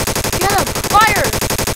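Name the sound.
gunfire in a video game war roleplay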